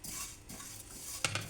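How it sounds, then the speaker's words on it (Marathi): Sesame seeds roast on low heat in a hot kadhai while a spoon stirs them, soft scraping and rustling with a couple of sharp metallic clinks near the end, close and quiet. "मंद आचेवर हे असे छानपैकी आपण तीळ भाजून घेतो"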